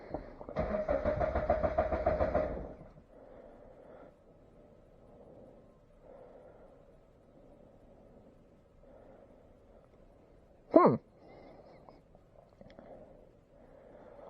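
Starter cranking on a turbocharged Scion FR-S in a garage, a loud grinding burst lasting a couple of seconds, then a quiet low hum and a brief sharp catch as the engine fires for a moment near the end.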